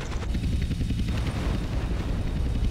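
Helicopter in GTA San Andreas, a loud, steady rotor chop filling the scene amid dense rumbling game noise, with no voices.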